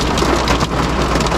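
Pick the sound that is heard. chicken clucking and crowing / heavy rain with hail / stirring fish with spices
heavy rain with hail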